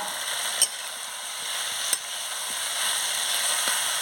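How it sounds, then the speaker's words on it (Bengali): Malabar spinach stems and potato with spices get stirred in a hot pan for a tilapia curry, giving a steady frying sizzle broken by two sharp spoon clicks on the pan, close and alone. "কি সুন্দর নাড়িয়ে নিচ্ছি মশলার সঙ্গে পুঁই ডাঁটাটা"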